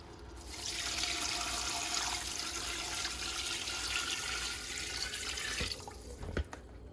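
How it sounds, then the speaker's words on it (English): Water pours steadily into a cooking pot in a continuous rushing stream for several seconds, then stops with a couple of small clunks at the end. "I'm gonna pour some water."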